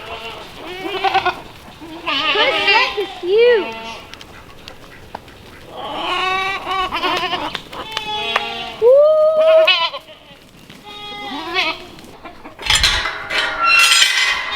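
Goats bleat repeatedly at close range on a farm, a mix of wavering, nasal calls in uneven bursts, with a person talking briefly between them and a short clatter near the end.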